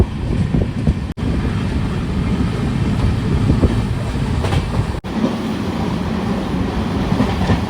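Kacheguda to Mangaluru Central weekly superfast express runs at speed, a loud continuous rumble and rattle of rolling coaches with wind buffeting the microphone, broken by two brief dropouts.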